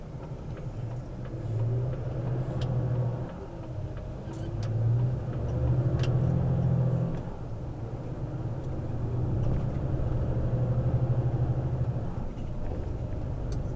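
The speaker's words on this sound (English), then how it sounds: "This Porsche that I've collected" A collected Porsche's engine runs steadily with a low droning hum that swells and eases over several seconds, heard from inside or close by with no talking.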